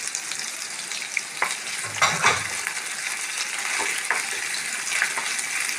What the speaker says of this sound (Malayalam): ഇതൊന്ന് ഫ്രൈ ആവണം.